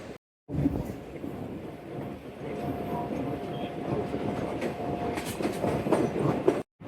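Shalimar Express train pulling out of Sangla Hill station, a continuous rumbling roll heard from inside the carriage with a faint tonal hum and rhythmic clatter building steadily, close and moderately loud.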